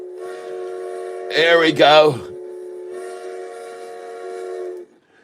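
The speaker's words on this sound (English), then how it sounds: "Yes, it's the sound of a train." A recorded train whistle plays back loudly over a speaker, a sustained multi-tone steam-style blast with a brief louder surge in the middle, while someone says a few words over it.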